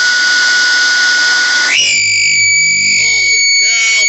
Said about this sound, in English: if my hose becomes disconnected from my tool, the alarm sounds and automatically lets me know